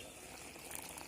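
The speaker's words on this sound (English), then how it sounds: "You can see that the gravy is boiling very well." Coconut-based vegetable kurma gravy bubbles at a steady simmer in a pot, a faint continuous burble of small pops without speech.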